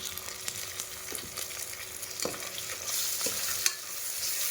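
Tomato fries in a pan for ghee rice, a faint steady sizzle with light scraping strokes of a spoon stirring at intervals, no voices.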